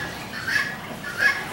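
Chickens in an animal area at a water park give two short clucking calls close by, a brief pair of bird sounds about half a second apart.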